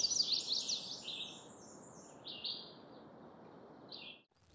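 Several veeries calling along a woodland edge, bright high phrases repeating near and farther off over a steady low outdoor hiss, fading out at the end.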